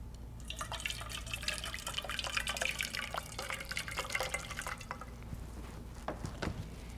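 Hot water pours and splashes continuously over a glass bottle, a steady trickling and dripping, close and moderately loud, without speech.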